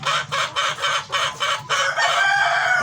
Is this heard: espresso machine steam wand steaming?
no